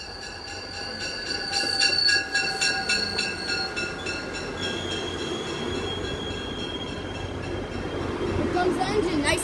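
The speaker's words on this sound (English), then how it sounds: "And here's the train." A long freight train rolls past a station with wheels squealing in high sustained tones, a steady rumble and clatter throughout, loud and close, with no talking.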